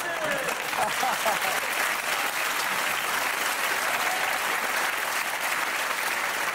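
Sustained applause from a comedy show audience, steady and fairly loud throughout, with scattered cheers.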